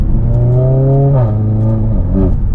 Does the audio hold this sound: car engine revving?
yes